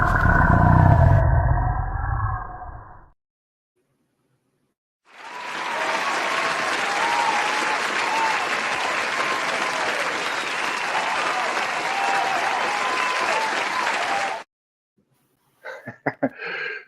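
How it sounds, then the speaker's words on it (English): A crowd applause sound effect plays on a Bigfoot radio show, a dense steady wash of many hands clapping for about nine seconds, loud and alone after a low rumbling opening, followed by a few brief knocks. "Sorry for my little crowd clap."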